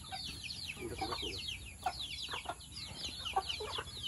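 Chickens cluck steadily and close together around a rural yard, a busy chatter of short repeated calls with no talk over them.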